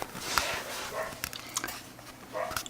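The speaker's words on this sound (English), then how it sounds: "This neighbor's dog is annoying." A neighbour's dog barks repeatedly in short bursts, moderately near but not loud, with faint background noise between the yips and barks.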